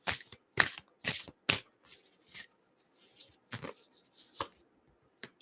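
Oracle cards are shuffled by hand in a series of crisp riffling bursts, close and clear, some sharp and others softer, with short gaps between them.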